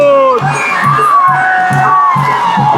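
Festival crowd at Rave village's devkathya procession, with many voices shouting, whooping and cheering continuously. The sound is loud and close, with steady rhythmic drumbeats underneath and bursts of calls rising over the din.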